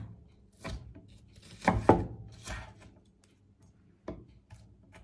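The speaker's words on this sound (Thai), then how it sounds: "หั่นให้มันเป็นชิ้นๆเท่านั้นพอค่ะ" A knife chops an onion on a cutting board in a few separate strokes, close and fairly quiet, with pauses between bursts and no talking.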